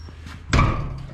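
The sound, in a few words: door being closed on a Minneapolis Moline A4T tractor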